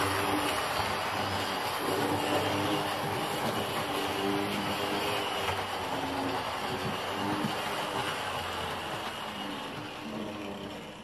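A Hornby model locomotive, a Hymek, runs along its track into a siding, giving a steady close motor whir and rolling rumble that fades slightly toward the end.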